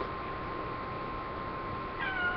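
A cat gives a single short meow near the end, rising out of a steady background hiss.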